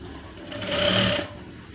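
A sewing machine stitches a blouse seam in one steady run of just under a second, rising and fading, with quiet workroom handling before and after.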